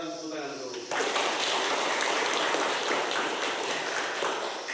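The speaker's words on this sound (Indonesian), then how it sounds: "Sekarang tepuk tangan dulu." A classroom of schoolchildren claps together, a dense, steady burst of hands that starts abruptly after about a second and holds at an even, loud level.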